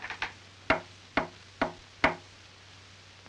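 Sharp knocks on a wooden door ring out in an old period-film setting, a quick double knock followed by four single evenly spaced raps, each clear and separate against a quiet background with a low hum.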